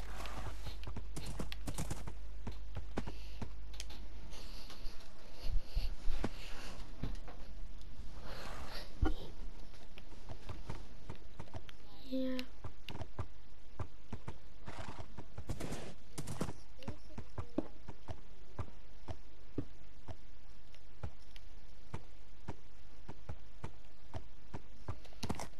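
Horse hooves clip-clop close by beside a leaking hot tub, irregular steps shuffling and thudding on the ground against a steady background hiss.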